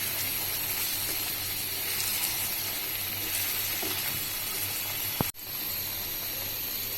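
Beef liver stirred and frying in a pan for barbecue kaleji, with steady close sizzling and hissing throughout and a brief scrape near the end.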